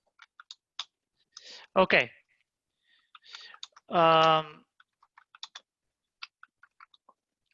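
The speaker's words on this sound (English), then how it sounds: "somebody is typing, I think, and has his microphone on." Computer keyboard typing picked up by an open microphone during an online class call, scattered light clicks in short bursts, near and fairly faint, with brief talk in between.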